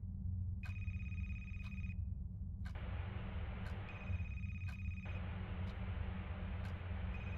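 Old-style telephone bell ringing in a horror video game set in a library, sounding in two long bursts with a pause between them, steady and clear over a low background hum.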